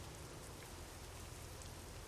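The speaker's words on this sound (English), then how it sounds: "I hear rain, but I don't see it." Steady light rain falls at a fuel station in American Truck Simulator, a soft, even hiss of drops spread across the whole stretch, faint and continuous with no voices.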